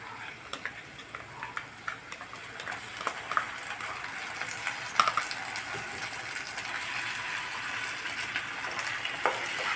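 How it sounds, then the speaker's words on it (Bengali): Ginger-garlic paste cooking down with softened tomato in a pan for a bhetki fish-bone curry, giving a steady soft sizzle with scattered spatula scrapes and light clicks, fairly quiet and close, with no talking. "আদা রসুনের কাঁচা গন্ধটা যাওয়া পর্যন্ত ভালো করে কষিয়ে নেব"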